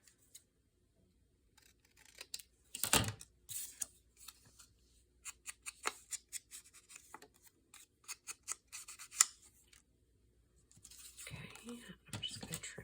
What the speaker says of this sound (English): Help if I could cut a little straighter